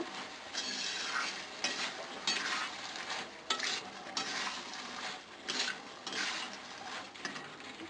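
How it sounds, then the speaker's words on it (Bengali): Food being stirred and tossed in a frying pan while cooking, with a soft continuous sizzle and rhythmic scraping strokes of a spoon against the pan, close and alone with no voices. "এরপর আমি একটু নাড়াচাড়া করব"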